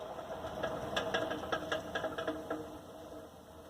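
A small Champion 400 engine running steadily after a gear adjustment, with a close mechanical drone and a burst of rhythmic rattling knocks in the middle before settling to a smoother run.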